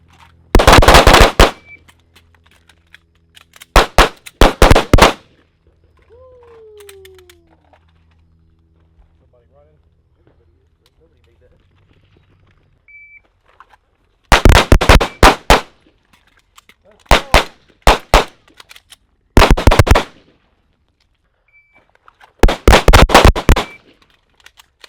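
Pistol gunshots ring out during a special forces shooting drill in loud, close, rapid pairs and short strings, separated by quiet pauses, with brief speech in between.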